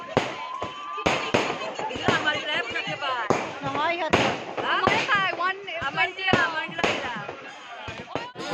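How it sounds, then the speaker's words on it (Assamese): Firecrackers burst at a wedding in sharp, irregular bangs, some near and loud, while several people talk and shout excitedly throughout. "ইয়াত ফটকা ফুটাই আছিলে"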